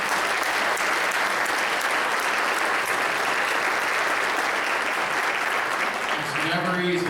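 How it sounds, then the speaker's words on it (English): Crowd applause for two mayoral candidates at a community forum in Tomah, a thick, continuous clapping from a room of citizens that holds steady, with a voice beginning to speak as it dies down at the end. "Let's give them a round of applause"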